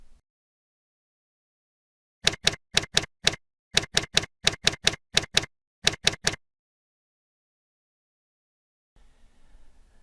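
Rapid bursts of typewriter key strikes, grouped in quick clusters of three to four sharp clacks with short pauses, loud and close on a silent background, followed by a faint rustle at the end.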